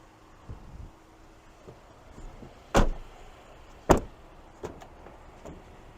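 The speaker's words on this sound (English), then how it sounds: "this one being an extended cab, that's how we open the door." The rear door of a 2022 GMC Canyon Elevation extended cab pickup is opened, giving a few sharp mechanical clunks and latch clicks, moderately close, with quiet handling noise between them and no talk.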